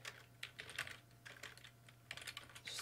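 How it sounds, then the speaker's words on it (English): Fingers tap out quick, uneven bursts on a computer keyboard close by, with short pauses between flurries of keystrokes over a low steady hum. "Sorry about the typing."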